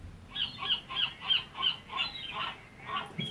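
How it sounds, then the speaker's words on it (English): A series of about eight harsh, nasal gull-like calls repeating in a steady rhythm, fairly close and loud over soft background noise. "Here's what a seagull sounds like."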